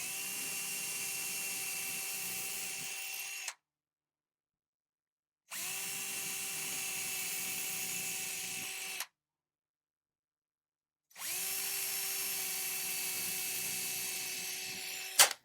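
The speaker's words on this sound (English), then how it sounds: "So I'll drill my pilot holes first." A power drill bores pilot holes for screws in three separate bursts, each a steady whine lasting a few seconds with short silent pauses between, close and fairly quiet.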